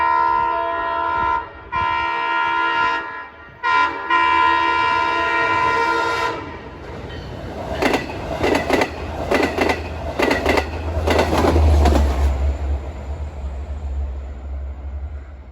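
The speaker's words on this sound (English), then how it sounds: "Now approaching westbound is another train that comes off the Port Jeff branch." A westbound Long Island Rail Road commuter train off the Port Jefferson branch approaches Mineola during evening rush hour, sounding long horn blasts before its wheels clatter past loudly with a deep rumble.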